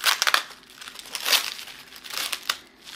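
A taped package of crystals is torn open nearby, with loud, uneven crinkling and crumpling of wrapping and tape in bursts, no talk.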